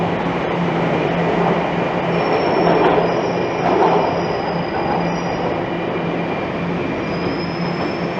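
A Toronto subway train rolls through Finch station, a steady loud rumble of wheels and carriages with high squealing tones from the rails, continuous for several seconds without talk.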